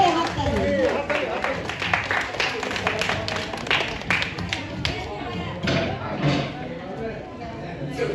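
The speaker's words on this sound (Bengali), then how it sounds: "মহিলাদের জন্য একটা জোরে হাততালি" Crowd at a Chattogram community get-together claps loudly for the women who made the desserts, a sustained spell of dense hand clapping that thins out and fades toward the end.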